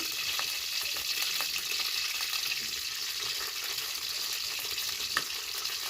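Okra dropped into hot oil with fried cumin and mustard seeds for dahi bhindi, a steady moderate sizzle running throughout with faint occasional stirring taps and no speech.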